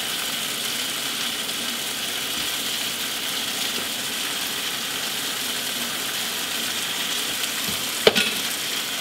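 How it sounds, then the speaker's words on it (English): Spinach and tomatoes cooking in a pan, a continuous close sizzle with faint stirring underneath and one sharp clink of a utensil near the end. "Keep mixing it around so the spinach and the tomatoes can cook."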